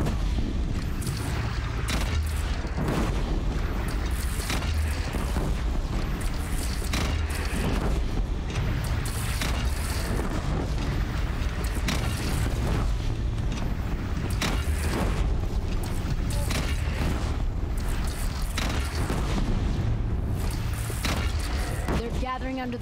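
Cannon fire and explosions in the video game Horizon Zero Dawn during a battle with a bandit clan, dense booms and blasts layered with game music and characters talking throughout.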